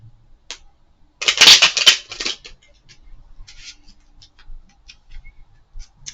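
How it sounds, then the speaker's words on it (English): A burst of riffling cards close by, followed by scattered light ticks and taps as cards are handled. "I'm gonna continue to shuffle."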